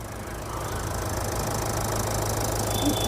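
A 2014 Toyota Etios Cross diesel engine idles close by with a steady, even low rumble and no change in pace throughout.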